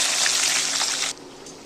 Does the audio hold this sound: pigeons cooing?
no